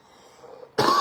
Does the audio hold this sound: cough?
yes